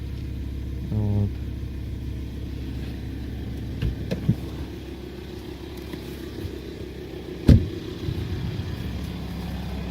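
A Volkswagen Touareg 2.5 TDI diesel idles with a steady low drone, broken by a few sharp, isolated knocks.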